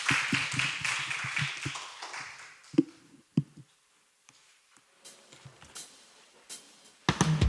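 Audience applause closes the second part of a church science seminar, a burst of clapping in the first two seconds that thins quickly into scattered claps and taps before falling quiet.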